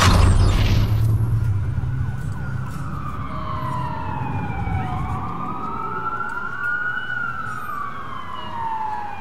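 Several police sirens wail in a video game city during a blackout, overlapping rising and falling tones sweeping past at middle distance over a low engine rumble.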